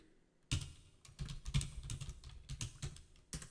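Keys clatter on a computer keyboard in quick, uneven bursts of close, crisp clicks after a brief quiet start, with short pauses between runs of taps.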